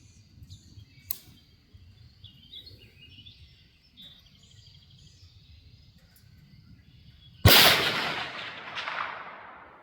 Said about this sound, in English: we'll go for one more shot here